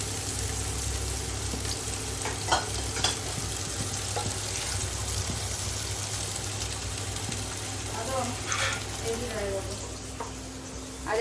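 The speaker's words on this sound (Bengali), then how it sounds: "এখানে হালকা জালে হালকা হালকা করে আমি আলুটাকে ভেজে নেব" Potato pieces frying gently in oil over low heat in a home kitchen, a continuous soft sizzle with occasional stirring clinks and a faint background hum.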